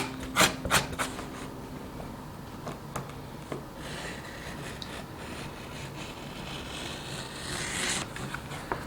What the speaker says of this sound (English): having a slightly duller blade with a little bit of use on it, helps you just scrape away just the slightest amount like that